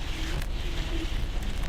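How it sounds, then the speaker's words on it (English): Strong gale wind roars steadily around a moored sailboat in the Arctic, a dense, close rushing noise buffeting the microphone with faint whistling tones. "it's so windy"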